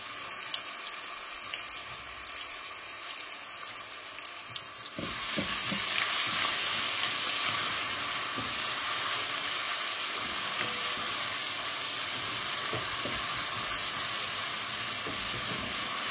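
Grated onion hits hot oil in a pan, and the quiet background jumps to a loud, sustained sizzling hiss with occasional stirring scrapes.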